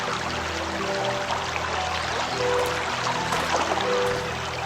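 Steady brook water flowing in the video game Anna, a constant rushing trickle heard close and alone, with no voices.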